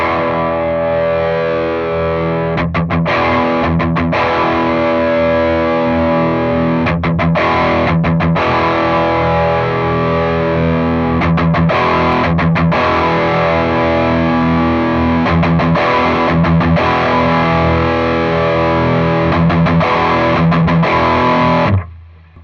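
Heavily distorted electric guitar through a Yerasov British Citrus BC-5 preamp at high gain plays loud, chugging riffs with short rhythmic stops between phrases, thick and continuous throughout.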